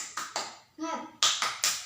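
Schoolchildren in a classroom clap out the rhythmic 'tepuk semangat' chant, sharp bursts of group clapping in quick patterned sets, broken midway by a brief chanted voice.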